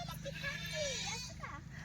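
A goat gives a short, wavering bleat, fairly faint, while someone talks nearby.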